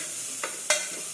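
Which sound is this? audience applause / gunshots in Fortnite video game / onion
onion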